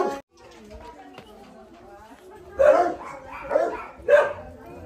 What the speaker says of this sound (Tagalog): Ang lalaki ng aso.